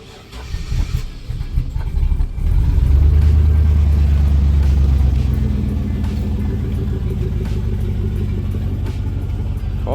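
A project truck's engine turns over and catches about two seconds in, then settles into a loud, steady running drone that fills the rest of the stretch, close to the listener and without speech.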